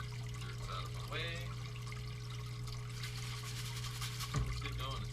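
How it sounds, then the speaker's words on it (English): Water runs steadily through a gold prospecting sluice loaded with wetted paydirt, a continuous broadband wash with a low mechanical hum beneath, while a person talks briefly over the flow. "Got everything all wetted up. Sluice is running."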